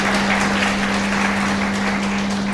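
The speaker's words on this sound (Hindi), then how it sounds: "तो बजाओ इनके लिए हृदय से ताली भाई" Audience applause at a Gita seminar in Jaipur, a dense, steady wash of clapping from a seated crowd, loud and sustained throughout with a constant electrical hum underneath.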